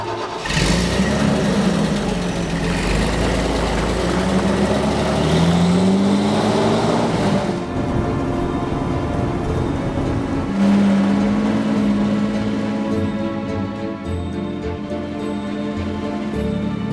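A 1976 Toyota FJ40 running and driving, its engine a steady loud rumble that rises and falls as it revs and shifts, heard up close with no voices.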